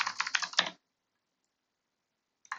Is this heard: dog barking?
no